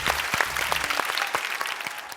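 A studio audience on a televised singing contest gives Rupesh and Reji a burst of applause, a dense, busy wave of clapping with a few louder individual claps standing out.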